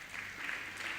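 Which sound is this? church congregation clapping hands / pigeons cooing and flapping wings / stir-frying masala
church congregation clapping hands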